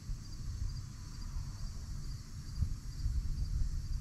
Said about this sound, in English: You guys hear that, right? Just crickets?